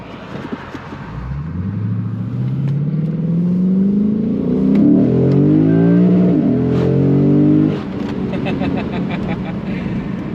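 A Lexus GS-F engine with an Apexi resonated mid pipe revs up steadily, pitch climbing through the gears in a loud, rising pull before easing off abruptly near the end.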